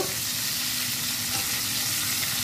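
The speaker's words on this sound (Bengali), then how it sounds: "আর মাছটাকে আমি হালকা ভাজা দিব" Pieces of fish fry lightly in a pan, giving a close, steady sizzle and crackle with no talking.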